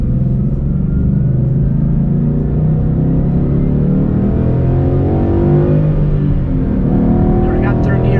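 A 2012 Mustang GT with just over 400 horsepower accelerates hard through its gears, a loud, close engine roar rising in pitch, then briefly dipping and climbing again as it shifts up.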